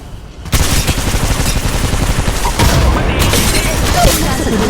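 Rapid bursts of gunfire in Apex Legends Mobile crackle continuously and loudly, with dense automatic fire filling the whole stretch and no pauses.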